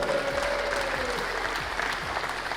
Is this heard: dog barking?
no